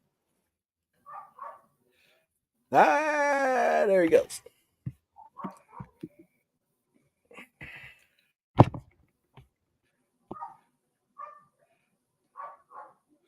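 A dog vocalizes near the microphone with one long, loud, wavering howl-like bark, followed by sparse short yips and whimpers, while someone talks in between.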